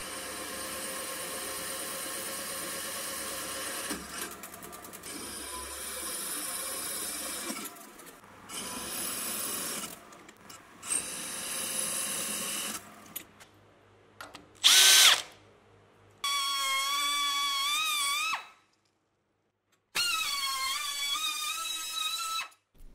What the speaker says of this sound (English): Next I'm drilling the mounting holes